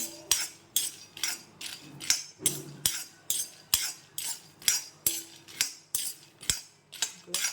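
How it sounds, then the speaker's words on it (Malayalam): Peanuts roasting in a hot wok while being stirred with a metal spoon for peanut candy, a steady rhythm of sharp scraping clinks, roughly two per second, close and loud with no voices. "ചീനച്ചട്ടിയിൽ ചൂടായതിൻ്റെ ശേഷം കുറച്ച് കടല എടുത്തിട്ടുണ്ട് അതൊന്ന് റോസ്റ്റ് ആക്കുന്നുണ്ട്"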